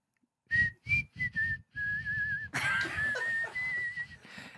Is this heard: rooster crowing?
no